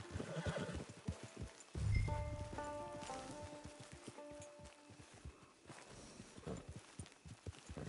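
A horse in the video game Red Dead Online whinnies loudly once near the start, then hooves clip-clop in a steady walking rhythm for several seconds, close and fairly quiet.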